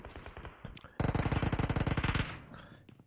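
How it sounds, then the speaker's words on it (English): Rapid bursts of automatic gunfire in PUBG Mobile during a tournament match, a sustained loud volley of evenly spaced shots, preceded by scattered quieter pops and followed by fading echoes. "we have some gunshots coming through already in here"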